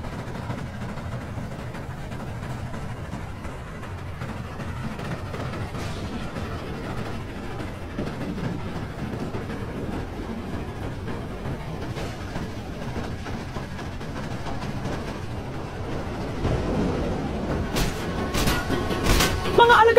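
A train rolls along the rails in the Roblox game Dead Rails, a steady low rumble with faint clattering that grows louder toward the end, joined by a few sharp bursts.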